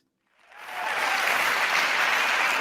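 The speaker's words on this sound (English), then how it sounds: "did you hear the applause?" Recorded applause played back at a live show swells in from silence within half a second, then holds as a dense, steady wash of clapping from a large crowd.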